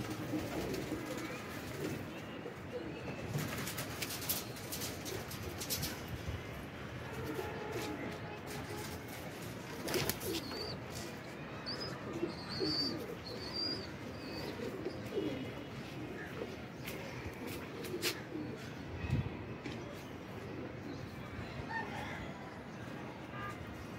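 Racing pigeons coo repeatedly at close range, joined by occasional chirps against a steady outdoor background, with little talk.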